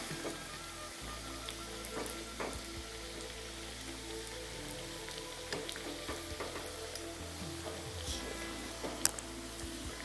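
Onion vada frying in hot oil as it browns, a steady low sizzle with faint crackling pops scattered throughout, no voices.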